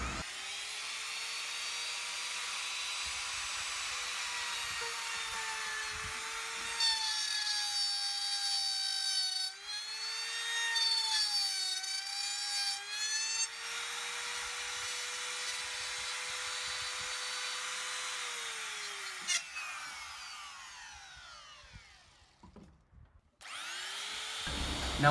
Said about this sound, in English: Now I cut the mortise.